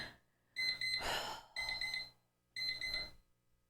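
An electronic timer beeps in three separate bursts, each a rapid cluster of shrill tones lasting under a second with short silent gaps between, close and fairly quiet.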